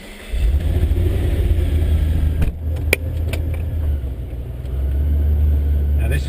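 A VE SSV Ute with a supercharged 402 stroked 6-litre V8 and a 2300 Maxwell supercharger rumbles loud and close, a deep steady idle that dips briefly and then swells again.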